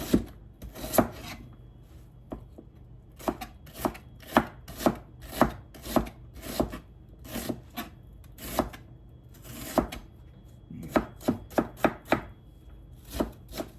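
Onions sliced thinly with a knife on a cutting board, a quick series of close, crisp chopping taps in uneven bursts with short pauses between.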